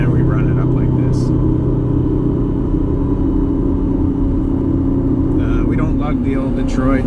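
An old Detroit 4-53TIB turbocharged diesel engine revving up under load on a hill, a loud, steady, close droning rumble throughout, with a voice talking over it.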